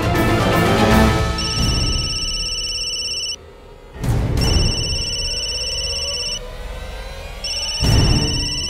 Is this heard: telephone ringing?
yes